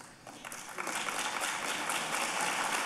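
Audience applause at a university school symposium fundraising announcement, a room full of people clapping that swells after a brief start and holds steady and dense to the end.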